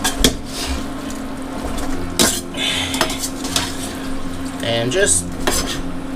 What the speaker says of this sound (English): I'll go ahead and bring in all that beautiful fried eggplant. And I want to toss that all around in my sauce.